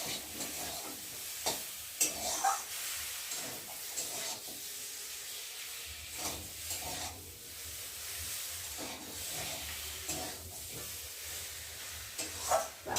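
Rohu fish curry sizzles quietly in a pan with chilli powder while a spoon scrapes and stirs it in repeated, uneven strokes.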